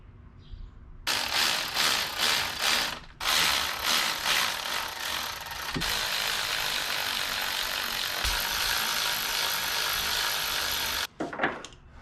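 Hand ratchet snugging spark plugs on an LS-swapped 1988 Firebird, rapid clicking bursts followed by a long steady ratcheting run up close, then a brief final burst after a pause, with no talking.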